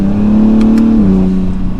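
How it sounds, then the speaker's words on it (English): An Acura NSX hybrid supercar with an aftermarket exhaust revs steadily with a deep, loud exhaust drone that shifts pitch partway through, close up with no talking. "this one does have an aftermarket exhaust, so I'm not sure what a stock one sounds like"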